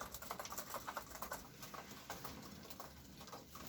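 Young pigeon chicks peck at feed, making quick, light tapping pecks in irregular bursts, fairly faint against a soft room background and thinning out toward the end.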